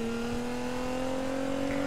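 A Nissan GT-R's engine in Need for Speed holds a steady, loud, even drone with a sustained tonal whine throughout, without breaks.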